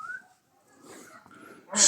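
A dog whimpers faintly on a quiet Himalayan trail in Himachal Pradesh: a soft, thin whine at the start, then near silence and some low breathy rustling, with a sudden loud burst of noise at the very end.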